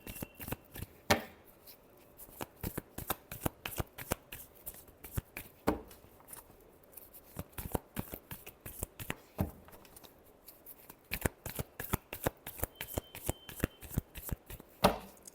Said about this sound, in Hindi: मैं कार्ड शफल कर दूँ।